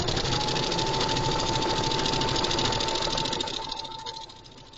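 A sewing machine stitches a fabric coffee sleeve, a steady close mechanical whirring with rapid rhythmic needle clatter that runs evenly, then slows and fades toward the end.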